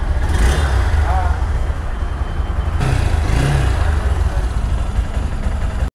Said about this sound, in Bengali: কিন্তু ইঞ্জিন সাউন্ডটা আমার কাছে ভালো লাগে নাই, কেমন ঝনঝন ঝনঝন একটা আওয়াজ হচ্ছে।